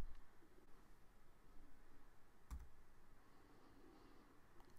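Soft keyboard typing at a computer while working in math software, a quiet scatter of light key clicks with one sharper tap midway, no voices.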